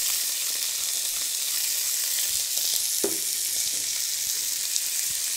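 Beef roulades wrapped with bacon and mustard sizzle steadily in a hot pan, a continuous loud frying hiss with occasional louder spits and crackles, no talking.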